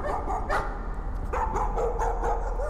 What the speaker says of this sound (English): Okay, the doggy that's not a happy doggy.